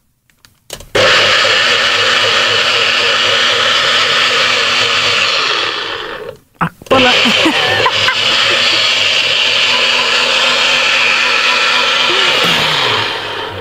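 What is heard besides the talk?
blender running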